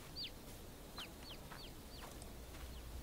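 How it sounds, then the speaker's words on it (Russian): Chicken in Farming Simulator 22 gives a run of about six short, high clucks spaced at a loose, irregular rhythm over faint farm ambience. "Курица, ты чё вылезла-то?"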